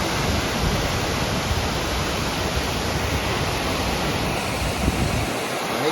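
Pykara waterfall roars close by in the rain, a loud unbroken wash of falling water filling the whole stretch with no voices.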